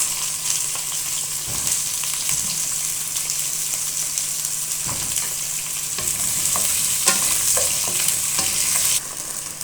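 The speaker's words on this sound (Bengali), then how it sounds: "ভালো করে তেলের সাথে একটু ভেজে নিব।" Potatoes and eggplant fry in oil with panch phoron, a steady close sizzle with stirring scrapes and spoon knocks running throughout.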